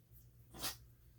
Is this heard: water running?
no